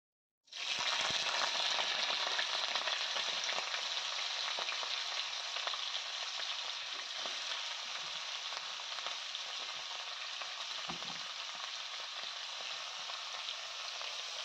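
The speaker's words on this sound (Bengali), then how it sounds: "আলুটা ভাজবো আর এই যে শিমটা ভাজবো বলে" Potatoes and flat beans hit hot oil in a wok and break into a loud, steady sizzle that holds for the whole stretch, with faint occasional stirring knocks and no speech.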